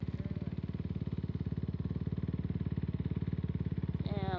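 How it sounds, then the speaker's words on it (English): Dirt bikes rev nearby with a steady, loud, rapid engine pulse throughout, rising in pitch near the end as the throttle opens. "They got dirt bikes. That seems sick."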